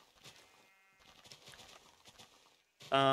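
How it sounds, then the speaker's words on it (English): A sheep in a block-building video game lets out one loud, close bleat at the very end. Before it come a few seconds of faint, murmured game sounds. "Maybe I should probably put these sheep into an actual pen."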